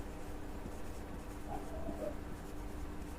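A pen writes out a maths solution on paper, producing soft, close scratching strokes in a quiet room with no talking.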